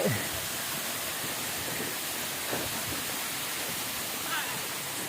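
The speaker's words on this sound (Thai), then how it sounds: "มีน้ำตกด้วย" A waterfall along a forest trail roars as a steady, even rush of broadband noise, with faint voices briefly mixed in.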